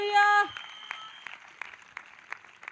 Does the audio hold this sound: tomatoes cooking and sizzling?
no